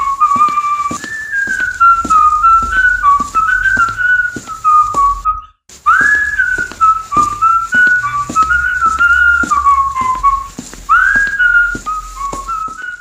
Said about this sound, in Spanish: Pero mientras avanzaba revisando las celdas, su silbido se detuvo al llegar al final del corredor.